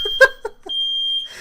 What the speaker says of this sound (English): That's the alarm saying wrap this podcast up.